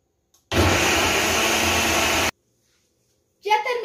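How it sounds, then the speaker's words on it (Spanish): A blender grinds parsley, cilantro, epazote, poblano and serrano chiles, onion, garlic, tomato and broth for green mole, roaring loudly and evenly for under two seconds before cutting off, then a voice begins speaking. "Ya terminamos de moler el perejil, el cilantro, el epazote, el chile poblano, la cebolla, los dos ajos, el tomate, los chiles serranos y el mole verde."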